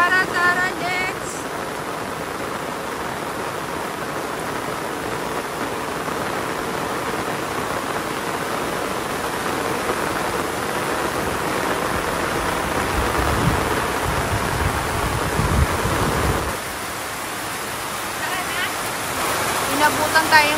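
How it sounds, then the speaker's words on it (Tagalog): Heavy rain during a typhoon at a family farm, a steady, loud wash of rainfall hissing on a roof and the ground, constant throughout with a slight swell near the middle and no voices heard. "Inabutan tayong malakas sa ulan kabsat ay."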